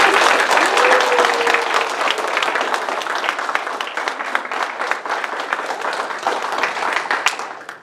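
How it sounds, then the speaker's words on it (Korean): Church retreat congregation gives a big round of applause welcoming the pastor, loud sustained clapping from a large crowd filling the whole stretch before tapering off at the end. "목사님 나오실 때 저희가 진짜 큰 박수로 환영하겠습니다"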